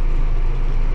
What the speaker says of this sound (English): I know this tractor has an exhaust leak.